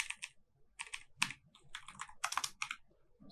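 Fingers type on a computer keyboard in quick bursts of soft clicks, close and moderately quiet, with short pauses between runs of keystrokes and no talking.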